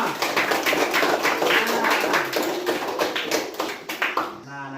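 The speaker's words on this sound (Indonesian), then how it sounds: "kita berikan tepuk tangan untuk kita semua" A classroom of students claps together, a dense, steady patter of many hands close by that lasts several seconds before tapering off at the end.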